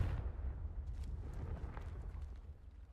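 The Confringo blasting spell in the video game Hogwarts Legacy: a low, rumbling explosive thud that fades out under a few faint scattered pops and clicks.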